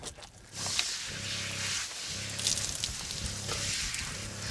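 An outdoor camping shower sprays water in a steady close hiss that runs without pause, with a rhythmic low hum from a pump or heater pulsing beneath the spray.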